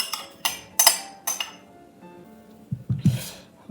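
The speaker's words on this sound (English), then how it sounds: "I'm gonna mix it well until it's all well combined." Almond tart filling of egg mixture and flour is mixed in a bowl, several sharp clinks and scrapes of a utensil against the bowl in quick bursts, then a few softer thumps near the end.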